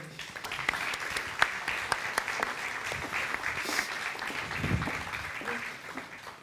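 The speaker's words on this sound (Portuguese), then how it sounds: "Uma salva de palmas, por favor." A live audience at the Porto de Encontro talk event applauds to welcome a guest to the stage, with steady, dense clapping that fills the room at moderate volume throughout, plus a few sharper individual claps standing out.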